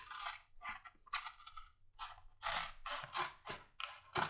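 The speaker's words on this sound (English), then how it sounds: "I'm going to go ahead and get it a little closer with this pair of shears" Shears snip through thick leather while trimming a holster for a Colt Single Action Army, a run of crisp, close cuts in an irregular rhythm with short gaps between strokes.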